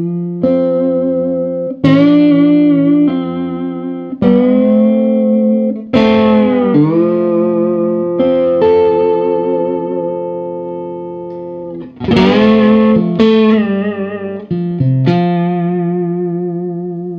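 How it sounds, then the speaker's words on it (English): Distorted electric guitar plays a melodic line, its notes repeatedly sliding up and down in pitch with whammy-bar bends, heavy effects and sustained ringing tails. "you can use the whammy bar to slide into notes, and you can kind of create slide guitar type sounds"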